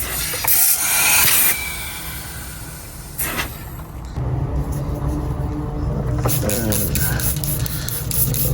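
Bursts of aerosol spray hiss close by, separated by short pauses, with a steady background rumble underneath.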